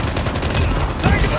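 Rapid automatic gunfire bursts from a Call of Duty Mobile multiplayer match, loud and close with rattling rhythm, as a player talks over the shooting.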